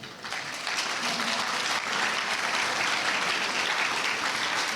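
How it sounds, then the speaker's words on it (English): Sustained audience applause fills a dinner and mentorship event at a law school, steady and dense throughout with a slight swell near the start and no clear voices above it. "keep the round of applause going"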